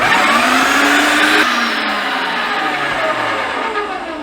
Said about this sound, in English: grinding a piece of bread to make sure that we've got all of the usable sausage out of the throat of the machine